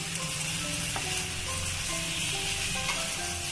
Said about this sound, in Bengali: এবার এর মধ্যে অ্যাড করে দেব জিরে আদার পেস্ট। খুব ভালোভাবে মশলাটাকে কষিয়ে নেব।